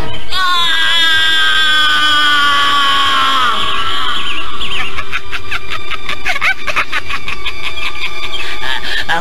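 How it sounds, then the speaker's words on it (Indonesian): A child's loud, piercing high-pitched scream wails and slides downward, then breaks into harsh, rapidly pulsing shrieks that continue with no talking. "Dari tenggorokan bocah tersebut keluar suara lengking tinggi yang menyebar ke seluruh belantara."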